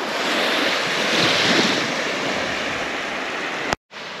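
Moderately strong waves on the Lagoa dos Patos lagoon at Arambaré wash steadily against the shore, a loud continuous surf roar mixed with wind buffeting the microphone, cut by a brief dropout near the end.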